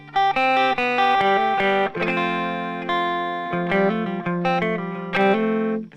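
An electric guitar plays a live version of the verse chord pattern from a song with effects, picked chords ringing and shifting in a steady, flowing rhythm, clear and upfront with no voices.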